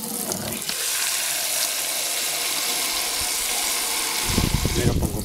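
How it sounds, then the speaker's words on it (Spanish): Tap water running onto sprouting seeds in a kitchen sink, a steady broadband rush lasting throughout, with a louder splashing burst near the end. "Ahora pasamos, le echamos su agua."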